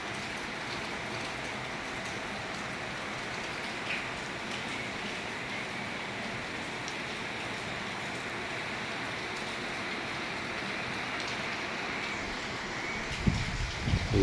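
Heavy wind-driven rain, the first rain of summer, falls at night as a steady dense hiss of drops on surfaces that stays constant throughout, with a brief knock near the end.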